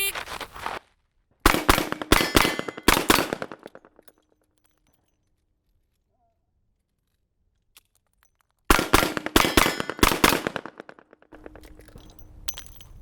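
Revolver shots on an outdoor range during an El Presidente shooting drill: two rapid strings of loud, sharp cracks with a long silent pause for the reload between them, followed by quieter rustling.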